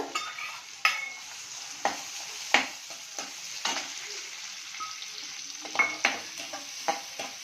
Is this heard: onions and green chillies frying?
yes